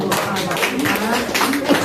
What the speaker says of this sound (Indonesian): Sekali lagi tepuk tangan buat sambutan